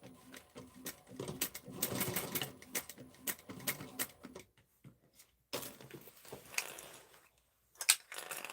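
A home sewing machine stitches a bag, a fast, close mechanical rattle in steady runs that stops and starts in short bursts before falling quiet near the end.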